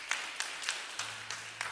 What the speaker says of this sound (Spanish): Denle un aplauso a Jesús en esta mañana.